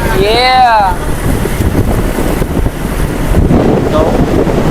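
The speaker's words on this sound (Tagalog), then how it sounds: "Medyo malakas na po yung alon" Loud wind buffeting and rushing water from rough sea waves during island hopping off Boracay, with a short whooping voice near the start.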